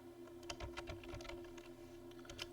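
Quiet, irregular keystrokes tap on a computer keyboard while entering spreadsheet data, a faint patter of clicks over a low background hum.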